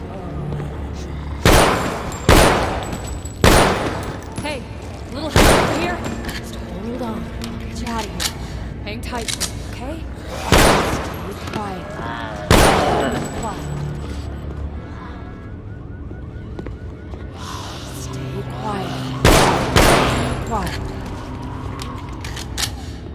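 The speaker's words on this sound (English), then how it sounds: "Gunshot. Some crazy asshole is sniping at us." Sniper gunfire in The Walking Dead Survival Instinct video game rings out as loud, sharp single cracks spaced a few seconds apart, about eight or nine in all, with voices talking between them.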